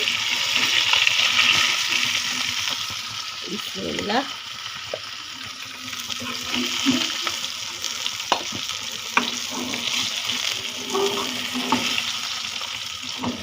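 Surma fish fry in hot oil in a home kitchen, a continuous loud sizzle with bursts of spattering and scraping as pieces are stirred and lifted out, with occasional clinks close by.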